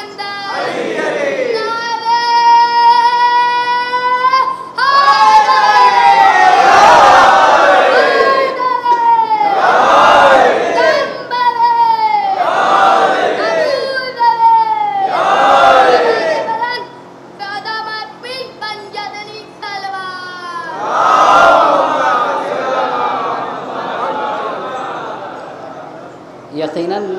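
A crowd at a Shia majlis in a large imambara chants religious slogans in loud call-and-response bursts, a leading voice answered by massed voices in rhythmic surges, with a voice among them.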